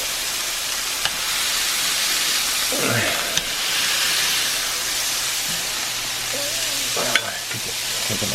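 A burger patty sizzles on a cast iron pan, a steady bright hiss throughout with a few sharp scrapes and knocks as it is pressed flat, and a voice speaks briefly in the middle.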